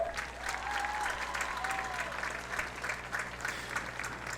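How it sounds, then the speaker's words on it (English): Steady applause from a crowd, continuous clapping throughout at moderate loudness with no voices over it. "Please, a warm round of applause for Julia Gianosa."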